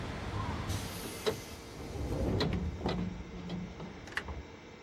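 Train doors close on a Yamanote Line commuter train in a railway simulator game: a soft pneumatic hiss and sliding rumble with a few sharp clunks and ticks at moderate volume over steady cabin hum.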